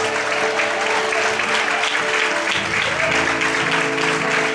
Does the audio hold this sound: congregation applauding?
yes